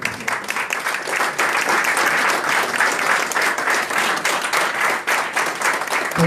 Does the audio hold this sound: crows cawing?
no